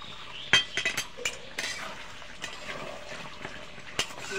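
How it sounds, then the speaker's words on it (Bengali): Chicken frying with ground garam masala in a pan, light sizzling under clinks and scrapes of a spatula stirring in irregular bursts, close and moderately quiet. "গরম মশলা দিয়ে আমি 1 মিনিট মতো জাল করে নেব।"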